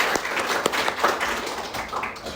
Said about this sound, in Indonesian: Yuk kasih tepuk tangan dulu buat narasumber kita